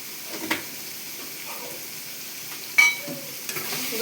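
A spoon stirs pointed gourd curry in a pan, the soft frying hiss running quietly underneath while a few scrapes and light knocks of the utensil stand out, one sharper clack near the middle.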